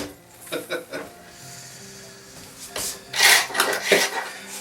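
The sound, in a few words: scraping paint off 1950s school desk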